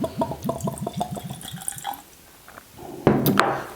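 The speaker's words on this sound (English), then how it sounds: "let's go in for a pour here" Deanston 12 Scotch whisky poured from a freshly uncorked bottle into a glass, a short close liquid splash and trickle lasting about a second after a stretch of quiet.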